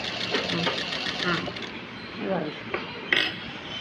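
A sewing machine runs in short whirring bursts while stitching a round pillow, with a light metallic clink near the end and a person speaking over it.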